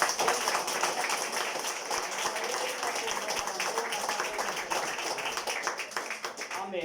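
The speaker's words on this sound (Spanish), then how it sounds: "Es un aplauso fuerte a la Madre de Dios." A congregation at a church service claps together, a fairly quiet but sustained mass of hand claps with some murmured voices underneath.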